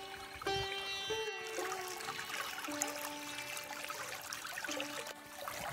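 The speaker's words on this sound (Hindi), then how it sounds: "अब इस छोटी सी नदी को और पार करना पड़ेगा" Small clear river flowing on the Narmada parikrama walking route, a steady trickling and splashing water wash with a few faint tonal noises mixed in, fairly close and continuous.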